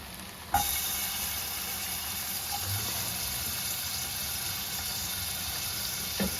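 Ginger and whole garlic cloves fry in hot oil with a steady, even hiss that runs throughout, marked by a faint click near the start and again near the end.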